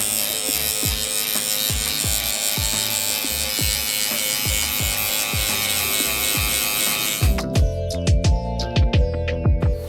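A Gamma Cyborg hair clipper buzzes close and loud during a barber's blending haircut, a steady electric drone broken by rhythmic strokes through hair, then a run of quicker choppy passes near the end.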